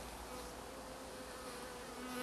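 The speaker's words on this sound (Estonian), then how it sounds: "Üks kilo mesilasi maja seina vahelt." Dense, steady buzzing of a swarm of honey bees, about a kilo of bees taken from inside a house wall, a continuous close hum with no pauses and no voices.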